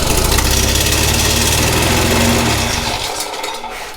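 Honda FG100 tiller engine running loud and close after starting on choke, a rough steady small-engine drone that fades and sputters toward the end.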